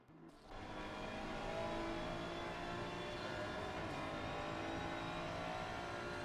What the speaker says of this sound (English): Twardok is properly sending that Ferrari through these last 3 corners